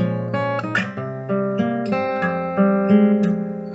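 Acoustic guitar notes picked rapidly with the thumb, a quick run of bright plucked tones ringing into each other, close and clear with no voices.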